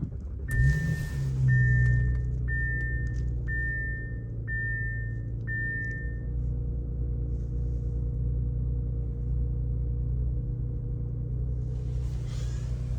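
A 2023 Audi S4 Quattro engine cranks and fires with a brief rev, then settles into a steady, deep idle rumble. Several evenly spaced electronic chimes sound over it during the first few seconds.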